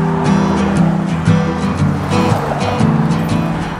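A broken-down car in the desert running again after a restart, its engine droning steadily up close with harmonic hum and rising revs throughout, loud and continuous with no talk.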